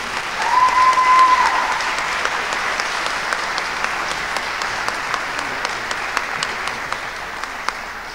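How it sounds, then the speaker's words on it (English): An awards-ceremony audience at the University of New England claps steadily for the female Senior Scholar Athlete of the Year. Sustained, even applause continues for about eight seconds, with a brief whistle-like tone near the start. "Please join me in a round of applause for Lindsay Monaco, our female Senior Scholar Athlete of the Year."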